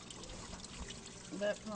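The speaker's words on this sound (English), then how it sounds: "Then it goes through here, and that's an internal pump." An internal pump circulating water in a home reef aquarium makes a faint, steady pouring trickle, low in level beneath a voice talking nearby.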